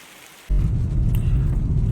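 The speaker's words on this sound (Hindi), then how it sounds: "कि बरसात शुरू हो चुकी है," Heavy rain begins abruptly during a night drive, a sudden, loud and dense downpour rushing with a deep rumble that continues steadily without talk.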